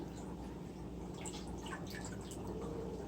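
A pet turtle being dipped into a tub of water and rinsed, with a steady low wash of water and light dripping trickles running continuously throughout, close by and fairly soft.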